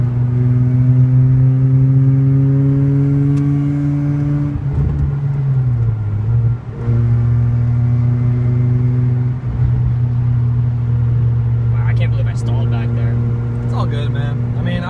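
A Mazda RX8 drives through traffic with a manual gearbox, its engine holding a steady, loud drone with brief dips and pitch changes around gear shifts. People talk over the engine in the cabin.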